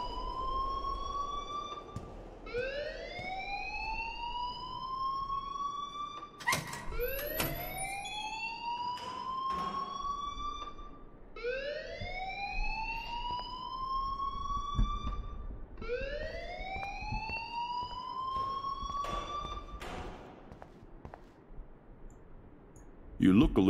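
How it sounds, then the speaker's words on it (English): An alarm blares in the video game Life is Strange, a siren-like tone that sweeps upward in long repeated wails, cycling about five times at steady volume. "please turn off that alarm since that's your job"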